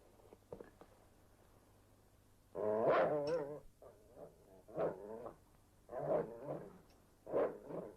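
A dog makes a few short growling, whining vocal bursts at close range, spaced out in clusters after a quiet opening with faint low hum.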